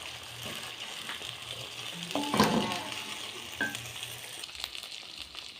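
Chicken devil mixture sizzles and fries in a pan as it is stirred. The steady, quiet sizzle swells into a brief burst of scraping and stirring near the middle, then settles back.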